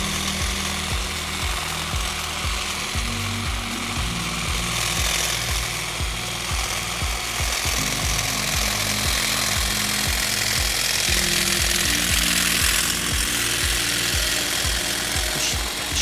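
A STIHL HSA 26 cordless shrub shear trims a shrub with a steady, loud mechanical chatter, its cutting blades buzzing continuously up close and shifting slightly in pitch as branches are cut, with no talking.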